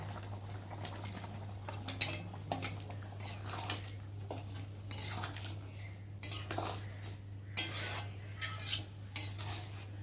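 A spoon scrapes and clinks around a pot of lentil fritters simmering in curry gravy, with irregular stirring knocks over a steady low electrical hum and faint bubbling.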